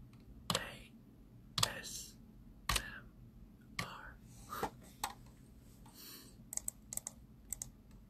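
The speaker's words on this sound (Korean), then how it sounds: "현구 키보드 소리 완전 ASMR" Someone types on a computer keyboard nearby during a livestream, with sparse, irregular clicks and a few sharper key strikes, fairly faint, with soft voice sounds in the background.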